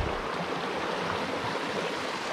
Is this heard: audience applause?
no